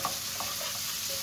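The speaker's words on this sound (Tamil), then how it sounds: "இந்த வெங்காயமும் பூண்டும் நல்லா வதங்கட்டும், நல்லா வதக்கிக்கலாம்." Gentle, steady sizzling of onion and garlic sautéing in a pan, with soft scrapes of stirring.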